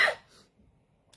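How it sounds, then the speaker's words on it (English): A single short cough bursts out at the start from a person suffering frequent coughing and chest pain, followed by near silence and a faint breath. "I'm coughing so often"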